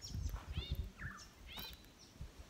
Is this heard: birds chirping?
yes